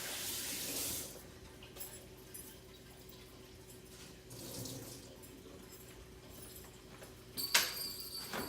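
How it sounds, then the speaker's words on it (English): Running tap water splashes softly over hands at a kitchen sink, a quiet, steady trickle with a few faint clinks and bumps. "I'm gonna wash my hands so I can start."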